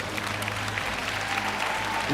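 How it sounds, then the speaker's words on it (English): An audience claps during a motivational speech, a short burst of fairly faint, dense applause heard from within the hall. "somebody ought to clap on that"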